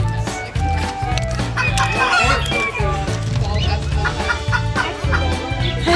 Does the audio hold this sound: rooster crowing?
yes